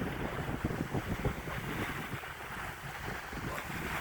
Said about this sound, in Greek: Χάλια είναι, φυσάει πάρα πολύ.